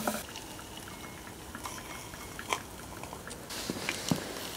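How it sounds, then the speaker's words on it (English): Charcoal soaked in liquid oxygen burns with a steady rushing hiss, broken by sharp crackles and pops that grow denser toward the end; nobody speaks. "let's see how well some charcoal burns when we soak it with that"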